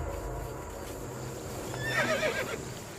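Horses neighing in a high, wavering whinny that rises about two-thirds of the way through, over a steady rumble of hooves clip-clopping and a dull background hum.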